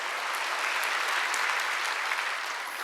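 A congregation at a Sunday church service claps together in a sustained, even burst of applause, with no talk over it.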